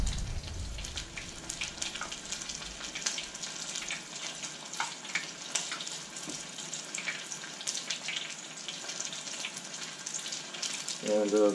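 Beer-battered smelt fry in hot oil with a steady, close crackling sizzle that runs the whole time, louder and bubblier near the end.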